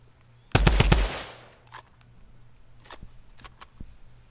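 Video game gunfire erupts in one loud, close burst of rapid automatic shots, followed by scattered fainter single shots and clicks trailing off.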